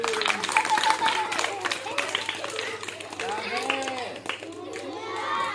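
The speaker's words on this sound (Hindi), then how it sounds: "ताली।" Children clap during a classroom learning game, a scattered patter of hands under loud overlapping young voices and chatter that carries on throughout.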